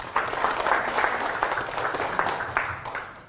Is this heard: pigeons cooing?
no